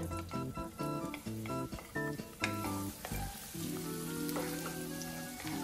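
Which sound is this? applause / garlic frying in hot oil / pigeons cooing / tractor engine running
garlic frying in hot oil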